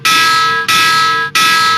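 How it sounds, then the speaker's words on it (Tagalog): An alarm bell used as a tsunami warning rings loud and continuous in three long bursts, each broken by a brief gap. "patunugin ang mga batingaw o alarm para bigyang babala ang mga residente"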